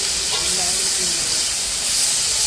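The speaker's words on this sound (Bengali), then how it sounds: "বরবটি ভাজাটা বসিয়ে দিয়েছে" Yardlong beans frying in a pan during home cooking for a puja feast, a steady broad hissing sizzle that fills the whole clip and swells slightly near the end, with faint voices in the background.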